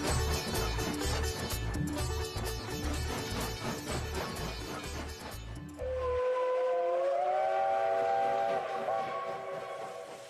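A cartoon train runs along with steady, rhythmic rumbling and clatter, then gives way to a sustained, loud whistle blast with wavering pitch near the end.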